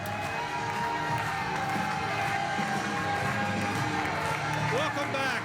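An election-night crowd in Bridgetown, Nova Scotia, cheers and claps in a steady roar as the winning candidate steps up to speak, with voices carrying over the noise.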